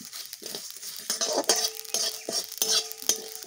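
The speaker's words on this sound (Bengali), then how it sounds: "এবার এই মশলাটা আমি একটু গরম করে নেব" Mustard seeds, poppy seeds, dried red chillies and bay leaves are dry-roasted in a pan for a village-style dal and chorchori, with close, repeated stirring scrapes and light metallic clinks over a soft sizzle.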